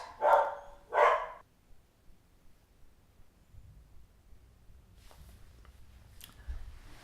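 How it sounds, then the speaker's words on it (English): Two sharp dog barks close together at the start, then near silence with faint distant rustles and small knocks, no voices. "We had to hold for dogs."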